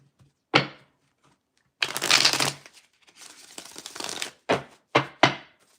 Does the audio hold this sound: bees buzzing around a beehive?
no